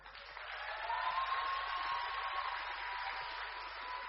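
Audience at a Kazakh KVN comedy show breaking into sustained applause, a dense, even wash of clapping from a large crowd that holds steady throughout with no voices over it.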